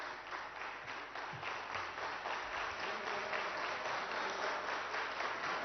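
Steady applause from an audience at a Telangana public event, honouring the chief minister, Revanth Reddy; dense, sustained clapping fills the whole stretch at an even level with no one speaking over it.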